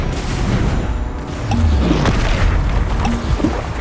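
Explosive Confringo spell blast in Hogwarts Legacy, a deep rumbling boom that swells and holds for several seconds under dense continuous combat noise.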